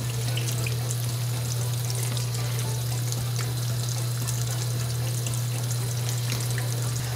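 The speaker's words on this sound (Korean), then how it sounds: "흐르는 물 약하게 틀어 놓으신 다음에 꼭지 잡고 한 장씩 넘기고 씻어주시는 거예요" Perilla leaves are rinsed one at a time under a gently running kitchen tap, a steady close hiss of flowing water with a low hum underneath, continuous throughout with no talking.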